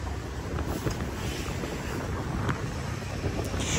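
Steady, loud wind roar buffets the microphone while riding pillion on a motorbike along city roads, a continuous rushing noise with faint engine and traffic hints underneath and no talking.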